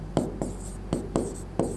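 Chalk or marker writing on a board during a physics lesson, with several short scratchy strokes and taps in an uneven rhythm, close and fairly clear.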